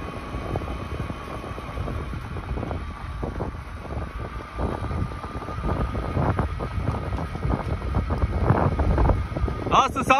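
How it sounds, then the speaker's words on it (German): Expedition camper vehicle driving through sand in Bulgaria, with a low steady engine rumble, wind buffeting and rattling thuds, heard from inside the cab. "jetzt fahre ich da mit euch durch den Sand"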